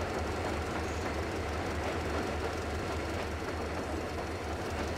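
A train riding on rails in the video game Metro Exodus: a continuous low rumbling roll with steady clatter and broadband rushing noise, even and moderately loud throughout with no talk.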